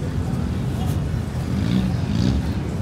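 Engines of cars including a Camaro and a Fiat rumble and rev close by as they pull away from a lowered-car meet, a continuous low drone with rising growls over the noise.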